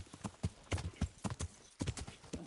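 Horse hooves clip-clop at a steady walking rhythm while riding in Kingdom Come: Deliverance, close and clear, with several even beats and a brief pause near the middle.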